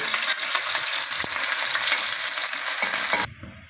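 Chopped onions sizzle loudly in a pan while being stirred to medium brown for duck karahi, a dense, close frying hiss that cuts off abruptly near the end.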